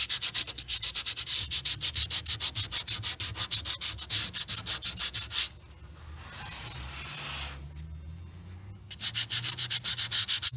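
A 100 grit sandpaper is worked by hand across an MDF board in fast, rhythmic back-and-forth strokes. The scratchy rasping is close and steady, stops for a few seconds with a softer rubbing pass, then resumes.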